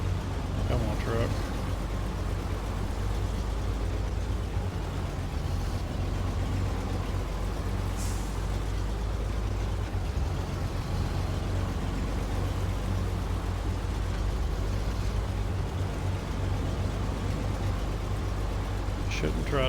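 A truck engine in SnowRunner labours up a hill in a steady low drone that never lets up, with someone talking over it.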